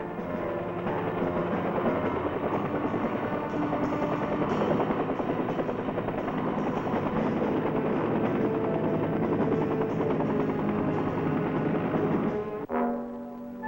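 A medical evacuation helicopter's loud, steady rotor thrum and engine roar drone on continuously, then cut off abruptly near the end, leaving a brief quieter tail.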